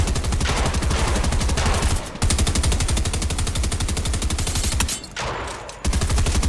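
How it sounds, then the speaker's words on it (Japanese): Sustained automatic gunfire in Fortnite, loud rapid rattling bursts with two short gaps before the shooting resumes. "こいつ撃ってる"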